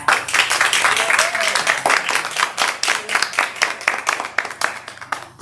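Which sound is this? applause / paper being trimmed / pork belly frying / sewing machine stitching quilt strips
applause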